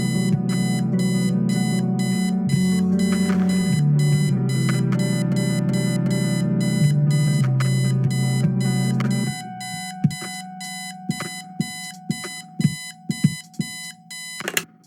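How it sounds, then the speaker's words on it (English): An alarm clock rings in the Kathy Rain video game, a loud, steady electronic beeping that runs continuously for about nine seconds, then stops and gives way to a few scattered knocks and clicks. "I set the alarm so you won't miss the funeral."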